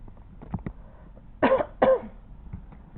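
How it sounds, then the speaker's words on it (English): Two quick, harsh throat clearings from a woman with a sore-feeling throat, close and fairly loud, while she works on a spooky Halloween art page, with faint crafting handling noises before and after. "I keep clearing my throat because my throat hurts today"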